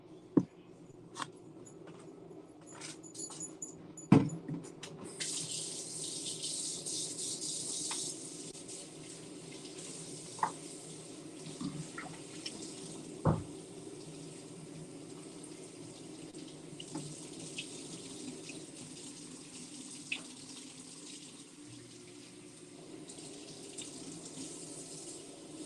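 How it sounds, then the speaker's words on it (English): Tap water runs steadily over a cast-iron pan being rinsed in a sink, a quiet close hiss broken by a few sharp clanks and knocks of the pan. "I'm going to rinse this off really quick"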